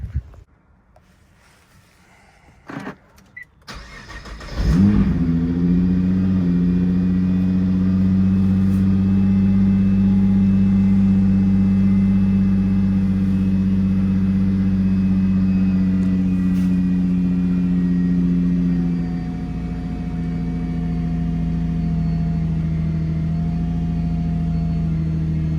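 A Nissan GTR drives along a road, its steady engine drone and rumble holding loud and close after a brief start, easing slightly in pitch toward the end with no one speaking.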